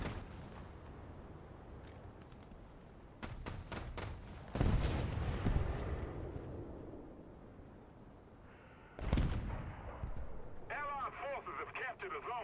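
Tank cannon shots in War Thunder on a snowy map, a few sharp booms with rumbling tails spaced several seconds apart, loud and close, mixed with game effects and players talking.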